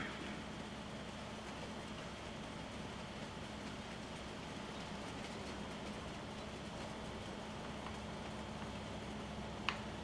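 Steady low rumble of a train in motion in Farming Simulator 19, with a faint rhythmic ticking over a continuous hum; no voices, even and unbroken throughout.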